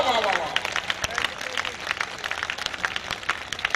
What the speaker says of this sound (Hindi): पूरा सदन एक बार दोनों हाथ उठाकर भरपूर तालियां